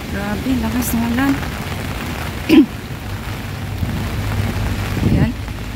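A loud, continuous downpour of heavy typhoon rain in Tsuen Wan fills the scene, with a voice talking briefly over it and a couple of short thuds.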